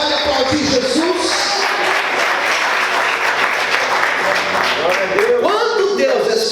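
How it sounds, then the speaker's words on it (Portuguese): Church congregation applauding during a sermon, loud sustained clapping from a large crowd, with voices speaking and calling out over it at the start and end. "Você pode aplaudir Jesus?"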